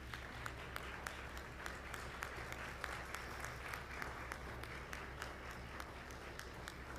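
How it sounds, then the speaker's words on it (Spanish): Faint applause from an audience at a talk on defending the Amazon, steady distant clapping with individual sharp claps standing out over a low background hum. "Gracias a Neidinha, un aplauso."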